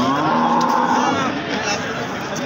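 A dairy cow at a rural cattle and buffalo market moos in one long, loud, steady low call lasting the whole moment, with faint crowd chatter behind it.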